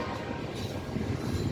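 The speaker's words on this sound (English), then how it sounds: "Now that's definitely a train, I must say. That's a lot of engines." A mixed freight train hauled by several new locomotives rolls past, giving a steady, dense rumble with wheel noise, fairly faint and even throughout, with no voices.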